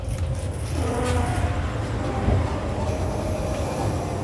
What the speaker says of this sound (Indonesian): Ini adalah kereta api Matarmaja dari Malang, tujuan Pasar Senen